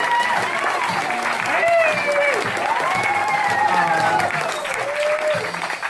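An audience applauds and cheers, a dense steady clapping that carries throughout while people talk over it.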